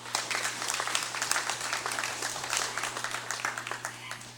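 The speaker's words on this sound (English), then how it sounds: "round of applause also." A crowd applauding steadily for several seconds at a legislative congress session, a dense patter of many hands clapping with a faint low hum underneath.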